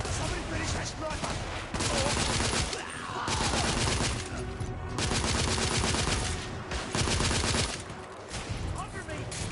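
Dense bursts of gunfire from a shooting video game, with rapid automatic fire and volleys that come and go in loud waves, broken by brief lulls over nearly ten seconds.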